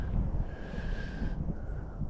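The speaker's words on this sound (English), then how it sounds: "Yeah, it's windy." Gusty wind rushes steadily across a lake shore during fly fishing, buffeting the microphone with a low rumble and a faint whistling tone midway.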